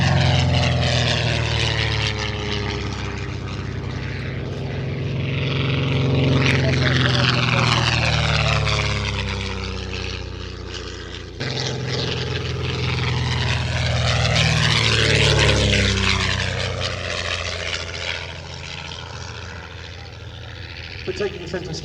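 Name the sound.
propeller aircraft flying at Shuttleworth air show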